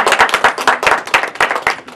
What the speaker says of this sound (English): let's just give her a wonderful round of applause